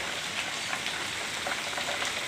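Rain falls heavily in a steady, even hiss, dense and close with no breaks, from a downpour that has gone on for hours.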